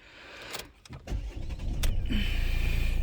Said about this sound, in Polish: Muszę trochę odsunąć tutaj fotel, żeby to dało się cokolwiek pokazać.